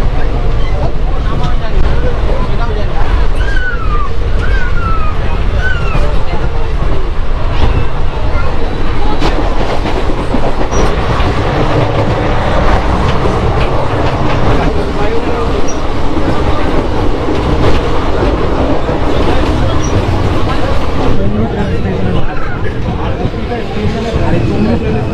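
A crowded coach on the Kolkata to Digha train rolls along, giving a loud, continuous rumble and rattle with crowd noise and a brief whistle-like tone over the rails.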